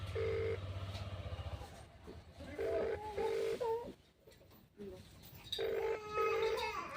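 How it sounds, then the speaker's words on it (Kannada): Mobile phone call ringing back with no answer: a repeating electronic ringback melody in short bursts, interrupted by pauses, with a voice speaking over parts of it. "ರಿಂಗ್ ಆಗುತ್ತೈತಿ ಯಾಕೋ ಎತ್ತ ಇಲ್ಲ"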